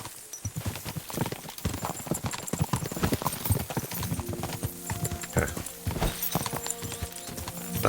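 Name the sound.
horses galloping in Kingdom Come: Deliverance 2 video game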